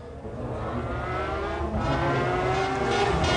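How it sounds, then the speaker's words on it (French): A McLaren race car at Le Mans in 1996 roars past under load, its engine note rising steadily and staying loud throughout, with no speech over it. "La voici, cette McLaren."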